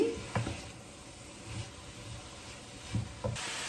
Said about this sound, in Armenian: Թողնում ենք 5 րոպե նորից տապակվի։